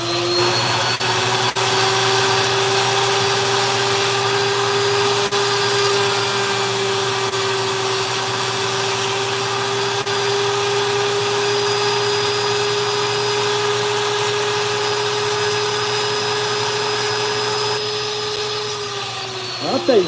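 A die grinder carving wood whines at a steady high pitch for about twenty seconds, loud and close, holding an even tone with slight wavers as it cuts, before spinning down at the end.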